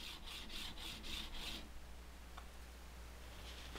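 A hand plane blade scrubs back and forth on a fine-grit sharpening stone in about five quick, even, raspy strokes, then stops, leaving quiet room noise.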